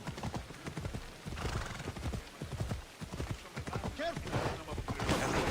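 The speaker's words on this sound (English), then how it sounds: "We'll summon our trusty steed." A summoned horse in Assassin's Creed Odyssey trots up with rhythmic clip-clopping hooves and a short whinny, with game ambience building toward the end.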